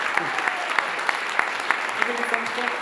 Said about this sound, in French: Un tonnerre d'applaudissements pour les enfants du périscolaire de la cité.